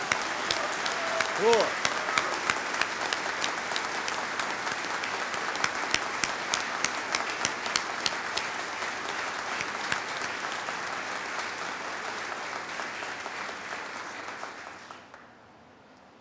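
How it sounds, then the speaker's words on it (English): Sustained crowd applause for soldiers of the 10th Mountain Division at a military transfer of authority ceremony with the 34th Infantry Division, steady and dense for about fifteen seconds before cutting off, with a brief spoken word early on. "join me in a round of applause for the soldiers of the 10th Mountain Division and their climb to glory in Iraq"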